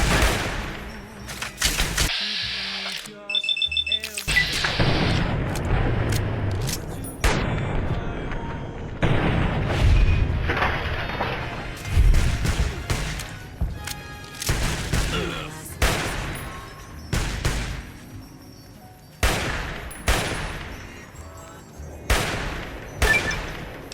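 Rapid bursts of gunfire in Fallout: New Vegas, sharp repeated shots and volleys crackling throughout, some close and loud, others trailing off, with brief lulls between clusters.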